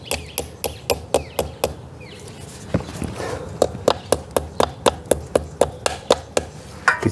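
A green plastic wall plug is tapped into a hole with a rapid series of sharp, evenly spaced hammer strikes, pausing briefly before resuming for more hits, with faint background noise.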